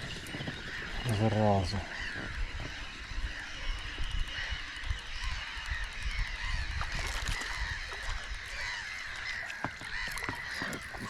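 Ducks call near a fishing boat on a summer evening, a short burst of honking quacks early on, followed by boat and water noise with people talking.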